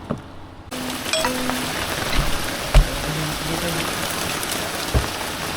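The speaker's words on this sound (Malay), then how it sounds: "Dah hujan geng." Rain falls steadily during a night of squid jigging off Kuala Terengganu, Malaysia, a continuous wash of drops with occasional louder thumps and knocks on nearby surfaces, and a few faint voices in the background.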